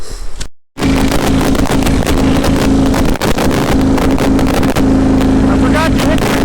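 A vehicle engine started on a cold day at an off-grid property, idling loud and close with a steady low drone and a sustained hum, wind buffeting the microphone throughout.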